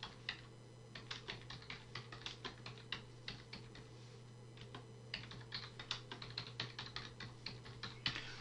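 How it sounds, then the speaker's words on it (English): Steady typing on a computer keyboard, a run of quick, fairly close key clicks in uneven bursts over a constant low electrical hum, with no talking. "So I've just typed find focal length from resolution."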